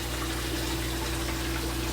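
Water rushes steadily through an aquaponics bell siphon, a constant close gurgling flow with an even, unbroken hiss and low hum.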